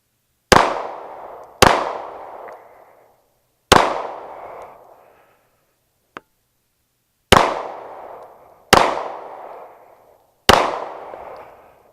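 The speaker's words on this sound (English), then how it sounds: "9mm, Glock 17. Let's go." A 9mm Glock 17 pistol fires at a target in six loud, sharp shots with ringing decay, spaced unevenly in two groups of three, plus a faint click between them.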